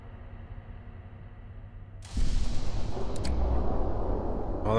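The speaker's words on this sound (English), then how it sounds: "that's the sound of a radiation storm arriving just as we entered here" A radiation storm rolling in during the Fallout London video game: a sudden onset midway of loud, broad roaring rumble with crackling, swelling over a quieter low ambient hum and staying steady to the end.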